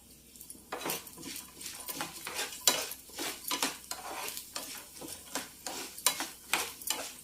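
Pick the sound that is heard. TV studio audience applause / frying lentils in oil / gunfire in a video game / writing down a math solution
frying lentils in oil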